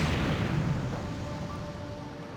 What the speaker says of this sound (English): a series of explosions destroyed the plane